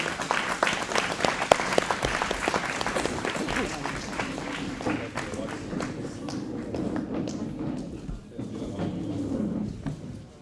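Enthusiastic applause from a crowd, loud at first and gradually thinning out, with some murmuring voices beneath the clapping.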